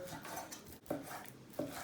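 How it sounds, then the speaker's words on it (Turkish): A knife finely chopping boneless chicken on a board in a home kitchen, giving a few sharp, close knocks spaced apart, with no voices. "İnce bir şekilde bunların hepsini doğrayacağız."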